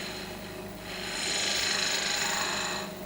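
Wood lathe spinning a spindle blank as an inch spindle gouge cuts into it, a steady whirring hum that swells to a brighter, louder hiss of cutting midway, then eases off near the end, with no talk.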